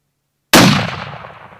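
A single loud rifle shot fired at a mule deer during a Colorado hunt cracks suddenly after silence, then rolls away in a long fading echo across open country.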